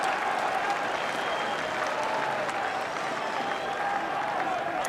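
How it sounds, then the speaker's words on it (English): Crowd at an AFL football match between the GWS Giants and an opponent, a broad, sustained roar of cheering and clapping from a large stadium audience, steady and continuous under faint commentary. "See, the crowd have come alive."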